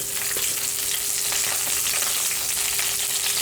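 Curry leaves hitting hot oil for a Kerala-style sambar tempering give a loud, constant, close-up sizzle with crackling spits throughout, and no talk.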